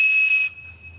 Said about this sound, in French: ça correspond à 2600 Hz. Quand on siffle dedans au téléphone